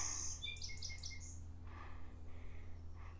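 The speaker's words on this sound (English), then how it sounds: "Hear the birds? They're happy." Faint high chirps and tweets from several birds, scattered and distant over a low steady hum.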